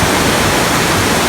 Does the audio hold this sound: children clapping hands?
no